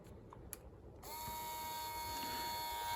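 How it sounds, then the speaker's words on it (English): A small servo motor on a compact prototype runs continuously in reverse, giving a steady close-up whine with a faint high buzz and no pauses once it starts. "The servo motor won't move, it'll just continue going into reverse."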